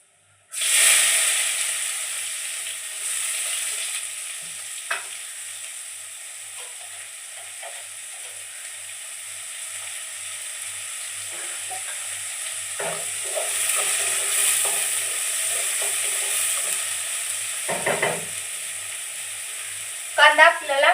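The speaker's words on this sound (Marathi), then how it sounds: "कांदा आपल्याला छान असा सोनेरी कलर येऊपर्यंत भाजून घ्यायचा आहे" Chopped onion frying in hot oil with cumin seeds, a loud sizzle that starts suddenly and then settles into a steady hiss, broken by occasional scraping and stirring in the pan, with faint speech in places.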